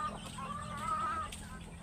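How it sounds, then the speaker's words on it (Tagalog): Chickens cluck while being fed, with one drawn-out call over low barnyard murmurs and faint background clucks, fairly close. "Bigay na ito sa manok."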